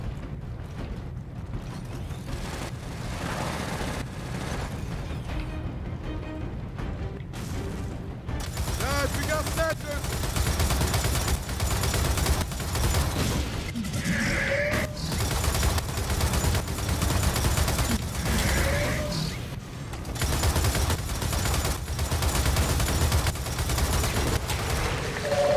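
Gears of War 4 gameplay with rapid, sustained gunfire bursts, dense and repetitive, that run almost continuously through the battle under a game soundtrack and occasional talk.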